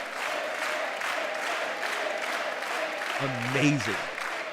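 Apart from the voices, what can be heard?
audience applause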